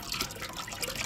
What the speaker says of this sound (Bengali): এখন আমি মাংসটা ধুয়ে নিব